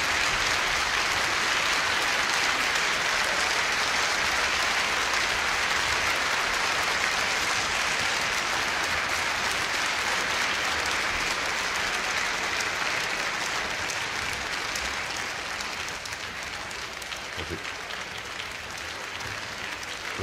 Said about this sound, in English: The men in the orchestra are applauding along with the audience.